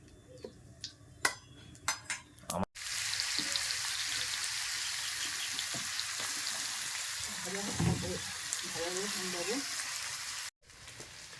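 Potatoes frying in a pan, a sustained hiss and sizzle that starts after a few sharp clatters and runs steadily before cutting off abruptly, with brief voices heard over it.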